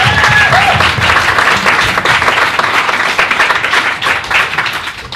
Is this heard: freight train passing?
no